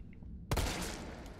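Sudden burst of gunfire in the Resident Evil 3 video game, a sharp loud blast followed by a rolling rattle of rapid shots that fills the rest of the moment.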